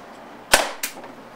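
A Tippmann TCR paintball marker fires a single sharp, loud close-range shot, followed a moment later by a smaller secondary crack.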